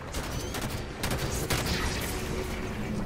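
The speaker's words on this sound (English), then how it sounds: "I'm like shooting him in their head." Gunfire in the Halo 5 video game: rapid, dense crackling bursts of shots layered over a continuous rumble of battle noise, steady and close throughout.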